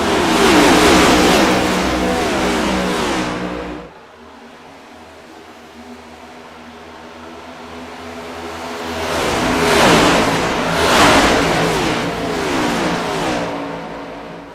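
Race cars at an Old Glory Racing League green-flag restart with three laps to go, engines revving loudly and accelerating up close, a brief lull in the middle, then a second surge of roaring engines.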